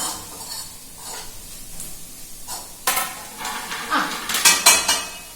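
Food sizzles in a pan, coconut and rice frying, while a utensil scrapes and stirs, the clinks growing louder and more rhythmic toward the end.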